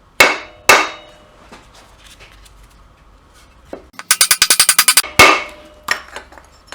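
Hammer whacks on a stuck thermostat in a Nissan VK45DE 4.5-liter V8, with loud sharp metallic clangs near the start and end and a fast burst of about ten rapid taps in between.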